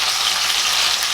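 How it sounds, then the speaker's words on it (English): Brisket sears in a hot pan with a loud, steady sizzle and frying crackle that runs unbroken and close throughout, with no talking over it. "you hear that? That sizzle. That's how you know it's like a really good sear."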